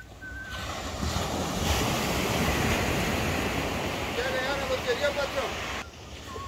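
Sea waves rolling in at the central beach of Bombinhas, a steady broad wash of surf mixed with wind noise on the microphone, with someone talking over it much of the time.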